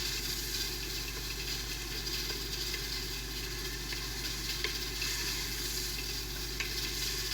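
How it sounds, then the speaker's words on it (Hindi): A steady, faint sizzle of garlic ginger paste frying in hot oil, with a continuous crackling hiss and no talking. "सिर्फ लहसुन और अदरक का पेस्ट और आयल डाला"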